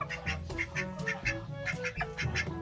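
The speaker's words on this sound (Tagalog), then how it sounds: "Peking duck at saka itik" Peking ducks and native itik ducks on a backyard farm quacking in quick repeated bursts, several calls overlapping at close range, with no talk over them.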